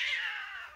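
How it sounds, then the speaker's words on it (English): Cats fighting on a farm let out a loud, drawn-out yowl that starts strong and slowly fades, close by and heard alone without any talk. "Cat fight."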